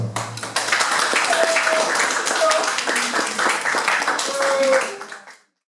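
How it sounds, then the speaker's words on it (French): Students and classmates clapping in a classroom or hall, a dense burst of applause with some whistle-like tones and voices mixed in, steady for about five seconds before cutting off abruptly. "On va applaudir encore les camarades."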